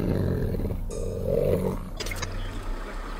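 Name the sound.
old lion roaring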